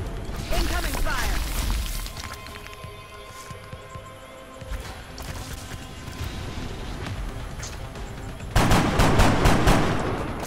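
Gunfire in the video game XCOM: Enemy Within, with sharp bursts of shots and an automatic-weapon rattle that stops briefly and then returns louder in a dense volley near the end.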